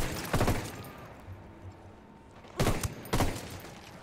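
Gunfire in the open-world shooter Ghost Recon Wildlands: a sharp nearby burst early, then quiet ambience, followed by two more loud bursts close together near the end.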